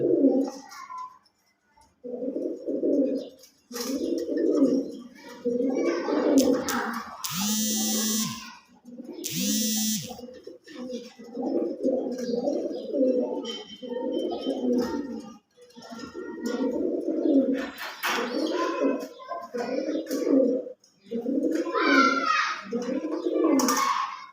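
Pigeons of a newly paired couple coo in repeated soft, throaty bursts close by, with brief pauses and a couple of sharper rustles or flutters in between.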